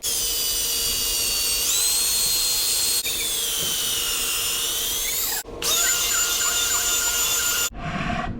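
A power tool grinds steadily while hollowing out a fly rod part to fit the reel seat, a loud, continuous high whine with brief drops in pitch and a short stop near the end, without talk.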